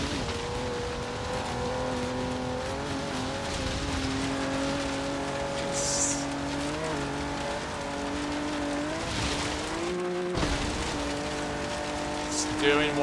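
Off-road car driven in Forza Horizon 3, its engine a steady, continuous drone with shifting pitch as it climbs and works over rough terrain, with spray-like noise and a brief bump near the end.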